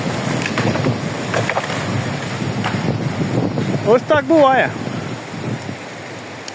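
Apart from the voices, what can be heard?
strong storm wind in a forest, leaves flying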